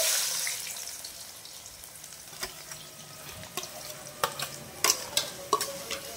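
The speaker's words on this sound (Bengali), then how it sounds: "এটাকে এখন আমি ভেজে নেব।" Chopped onion and bay leaf frying in oil in a pan while being stirred, a soft steady sizzle with intermittent scraping clicks and taps from the spoon that grow more frequent toward the end.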